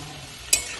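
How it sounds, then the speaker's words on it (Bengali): Garlic browns in hot oil for fried rice and chilli chicken, a low steady sizzle broken midway by one sharp stirring scrape or splash. "রসুনটা লাল লাল হয়ে যাচ্ছে"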